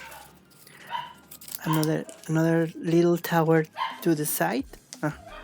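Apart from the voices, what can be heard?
dogs barking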